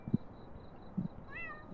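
A cat meows in a horror video game set at a shawarma kiosk: two short low meows and one rising, drawn-out meow, fairly close over a low hum, with no talk.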